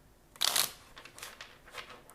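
Tarot cards are shuffled by hand: one crisp riffling burst, then several softer, quicker shuffles close to the microphone in a quiet room.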